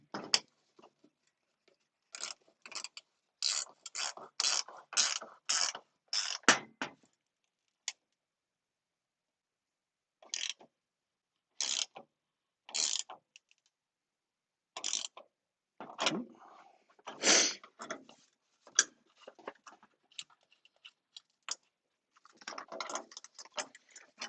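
A wrench tightens the inducer fan bolts on a Burnham PV205/PV206 boiler in a crisscross pattern, giving bursts of quick metallic ratcheting clicks separated by pauses, close and fairly quiet.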